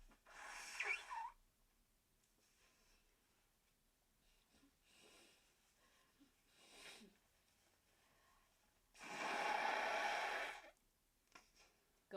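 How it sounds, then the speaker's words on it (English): A person blowing their nose hard into a tissue, two loud bursts of nasal blowing separated by quiet breathing and faint rustling. "Making my ears pop with how much I'm having to fucking blow my nose."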